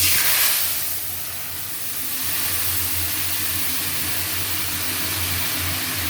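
Salt, turmeric, ginger, cumin and a little chili powder sauté in hot oil after tempering, a continuous hiss and sizzle that is loudest at the start, then dips and settles into a steady fry, with no talking.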